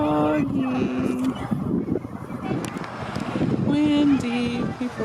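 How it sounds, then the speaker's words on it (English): Wind gusts across an open campsite, rumbling and buffeting the microphone in steady waves, while voices and other background sounds carry faintly underneath. "Windy."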